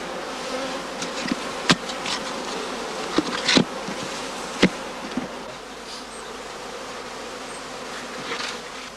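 Cast swarm of honeybees settled in a straw skep on northern Lower Saxony heathland, buzzing as a continuous soft hum with scattered louder individual bees passing close by.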